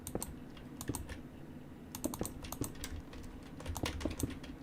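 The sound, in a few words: computer mouse clicking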